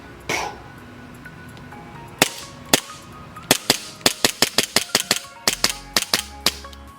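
An airsoft gas blowback pistol drenched in water fires BBs, starting with a few spaced sharp cracks, then a rapid string of crisp, close shots with the slide cycling.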